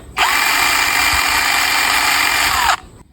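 A small, lightweight battery-powered electric chainsaw starts up and runs at full throttle with a loud, steady high-pitched whir for about two and a half seconds, then stops abruptly.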